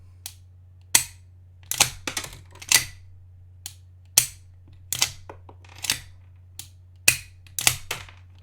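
A series of sharp mechanical clicks from a pistol dry-firing, coming in irregular pairs and singles, close up over a steady low hum.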